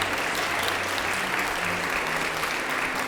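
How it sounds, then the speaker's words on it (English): Audience applause for the Third Coast Suzuki cellos at a fall fundraiser concert: a dense, steady wash of many hands clapping, loud and continuous from start to finish with no voices over it. "Give them one more round of applause."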